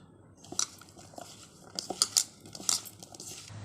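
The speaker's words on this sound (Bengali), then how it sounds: "সবার শেষে দিয়ে দেবো একটুখানি কাসন্দি সস দিয়ে খুব ভালো করে মেখে নেব আমটাকে" Raw mango being mixed with kasundi sauce in a bowl with a spoon, producing close, irregular clinks and scrapes of metal on the dish, with clusters of quick taps and no talking.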